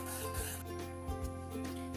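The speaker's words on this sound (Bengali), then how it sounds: "চকলেট পেস্ট দিয়ে নাড়তে হবে" A spoon stirs chocolate paste into phirni in a pot, giving a soft, continuous scraping and rubbing close by under a steady hum.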